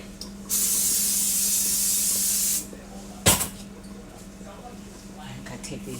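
Cooking spray hisses out in one steady burst of about two seconds, followed by a sharp clatter, then quiet room tone.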